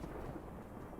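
Rumbling thunder effect as the Lightning Strike card resolves in the Magic Arena card game, a short dense roll of about a second with no voices.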